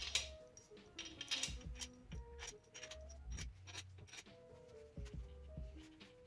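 Bolts being installed and hand-tightened on a Nissan KA24ET engine block during a build, giving a steady run of small metallic clicks, ratcheting and clinking up close, with no talk.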